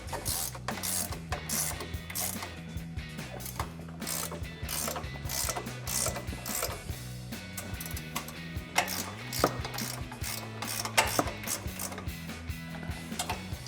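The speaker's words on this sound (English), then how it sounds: "take a 17mm ratcheting wrench to tighten down our" A 17mm ratcheting wrench tightens the strut tower nuts on a 2014-2020 Ford F-150 during a BDS coil-over lift install, giving a steady, close, fast-clicking ratchet over a low hum.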